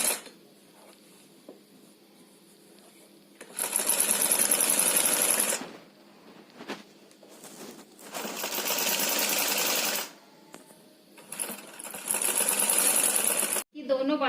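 A sewing machine stitches the sleeves onto a dress made from an old saree, running in three long loud bursts separated by quieter pauses with light handling noise.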